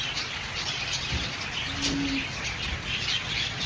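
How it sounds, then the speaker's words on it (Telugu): White parrots call at a zoo aviary, one clear brief squawk standing out over a dense wash of distant bird chatter and general outdoor ambience. "ఇక్కడ ఇట్లా వైట్ కలర్ బర్డ్,"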